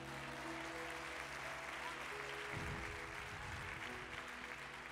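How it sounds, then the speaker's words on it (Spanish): Church congregation applauding loudly during a Spanish-language worship service, a continuous dense clapping that swells midway, with no voices over it. "Dale ese aplauso fuerte al Señor"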